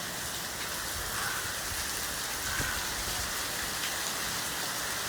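Heavy rain falls steadily outdoors, a dense, continuous hiss of drops striking surfaces nearby, loud and unbroken with no voices over it.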